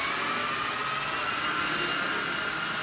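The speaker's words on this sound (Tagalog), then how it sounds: "mag-vacuum na naman ako" A household vacuum cleaner runs steadily during house cleaning, a close, loud, even whine and roar that holds without a break.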